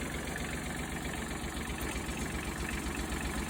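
A Kawasaki Mule utility vehicle's engine idles steadily just after a cold start, a continuous close rumble with a fast, even low pulse and no talking over it.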